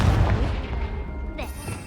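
A Confringo blasting spell explodes in the Hogwarts Legacy video game, a loud booming burst up front that settles into a rumbling tail, with a brief whooshing flare near the end.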